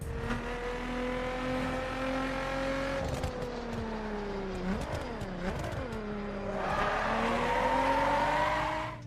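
Race cars in The Crew, a racing video game, hold a steady engine drone that rises and falls through gear changes, with a tire skid squealing mid-way and a louder, brighter acceleration surge near the end.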